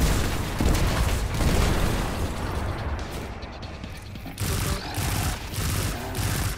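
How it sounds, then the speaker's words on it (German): A pulse grenade explodes in the shooter game Destiny 2 amid dense, loud gunfire, with booms and mechanical clatter running continuously and briefly dipping in the middle. "Deswegen darauf eine Impulsgranate."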